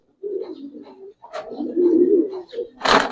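Silver Giribaz and colored pigeons cooing close by, several soft throaty coos in a row, ending with a brief flutter or rustle.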